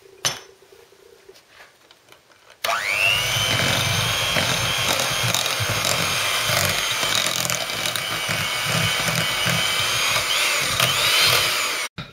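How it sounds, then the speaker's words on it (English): An electric mixer starts abruptly after a quiet moment and whirs loudly and steadily through cake batter with vanilla and coconut for a Greek New Year's vasilopita, a continuous close hum with faint rattling until it stops. "Now I'm going to add the vanilla and the coconut into the mixture and mix it until it becomes thick."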